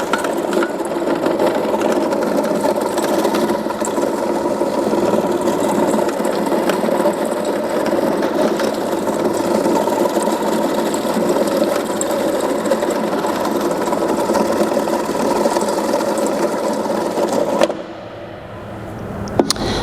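A food size-reduction machine runs steadily after being started, a loud continuous motor whir with a grinding texture that holds evenly for most of the stretch, then drops off abruptly near the end.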